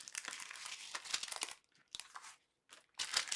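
Scissors cutting a tag off a cardboard gift box, heard as close crinkling, crunching snips in bursts with short pauses between them.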